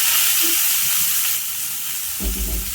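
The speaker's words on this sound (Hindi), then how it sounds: "अब बचे हुए ऑयल में ही मैं कटहल डालूंगी।" Jackfruit pieces dropped into hot leftover oil: a loud, broad hiss of frying that swells partway through, with a low clunk of the pan toward the end.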